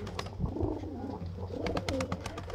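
A Sialkoti pigeon pair from a breeder's loft gives soft, close coos, with a low rumbling warble and a few faint clicks in the background.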